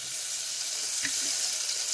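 Butter sizzles in a pot over heat, a steady, close frying hiss with faint crackles and no talking.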